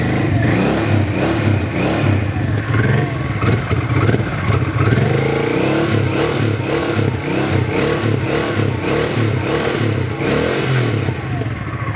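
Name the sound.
Honda Ascot motorcycle engine idling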